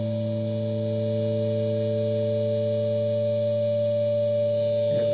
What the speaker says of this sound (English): This is my op amp distortion.